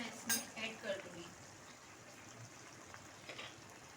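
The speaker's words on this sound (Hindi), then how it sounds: "अब हम इसको मिक्स कर लेते हैं सही तरीके से" A spoon stirs cubed potatoes with black peppercorns and a cinnamon stick in a metal pot, giving a few soft scraping clinks early on, then a faint sizzle, heard close and quiet.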